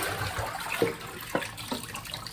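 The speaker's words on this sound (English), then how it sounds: "so now we're going to drain off this water" Water is drained from a pot of boiled king fish, splashing and gurgling in a few short bursts at close range.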